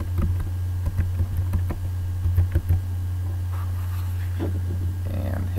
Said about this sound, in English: So go ahead and type in whatever your password is.